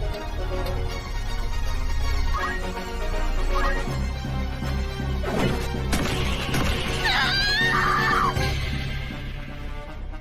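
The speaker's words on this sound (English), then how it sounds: "this female death scream, I'm not sure, but this is the Japanese version" A high, wavering female death scream from the Japanese version of the video game Final Fantasy Tactics rises near the end, layered over busy game music and effects.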